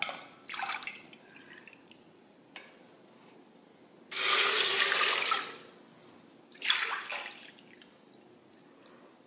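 Water is poured into a pressure cooker holding moong dal for payasam, heard as a few splashing, hissing bursts, the longest and loudest near the middle, with quiet pauses between them.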